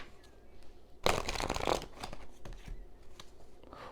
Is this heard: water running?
no